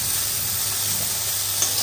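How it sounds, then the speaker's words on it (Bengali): Black cumin seeds (kalonji) sizzle in hot oil in a pan with shrimp, giving a steady, close, continuous frying hiss with no talking. "এর মধ্যে আমি কিছুটা কালো জিরে দিয়ে দেবো"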